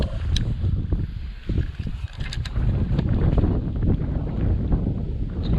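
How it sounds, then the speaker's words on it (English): Blustery wind buffets the microphone outdoors on open water from a kayak, a continuous rumbling roar with light splashing and knocks, no talking. "the wind has decided to change directions and now push me inshore again"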